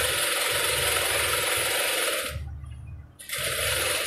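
A sewing machine stitches a pillow cover in a steady rapid mechanical whir, stops for about a second, then starts again close and loud.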